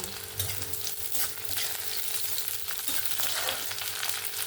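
Browned onion and slit green chilies sizzling in a pan for a Bengali gima shak dish, a continuous close hiss with occasional soft stirring scrapes.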